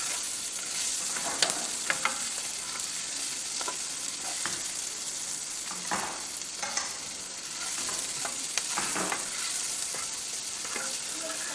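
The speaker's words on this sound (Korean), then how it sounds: "이 시점에 아까 다져놨던 마늘까지 같이 넣어주도록 할게요." Minced garlic and red pepper fry in oil for aglio e olio pasta, a steady close sizzle running throughout with scattered light stirring clicks and taps, no voices.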